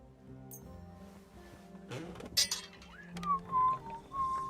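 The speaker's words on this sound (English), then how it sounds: "There is at least 2 tunes that Henry whistles." Henry whistles a short tune in the medieval game Kingdom Come: Deliverance 2, a clear melodic whistle rising and holding pitch over a low ambient game drone, with clinks of metal and dishes just before.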